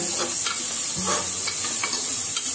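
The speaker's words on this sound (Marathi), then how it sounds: "गाजर सर्व चांगला परतून घ्यायचं, चांगलं हलवून घ्यायचं सर्व." Chopped carrots stir-fry in a little oil in a pan, a constant close sizzle with scraping stirs and clanks of the spatula against the metal.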